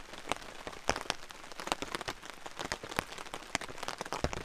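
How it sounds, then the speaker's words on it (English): Mild rain patters on a tent and tarp at a campsite, with dense, crisp drop impacts scattered irregularly, close and fairly quiet, with no other sound. "It is starting to rain more, but it is mild."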